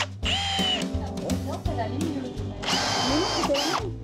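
A power drill whirs in short bursts while backing screws out of the wooden battens that support roof tiles on a building site, with people talking over and between the runs.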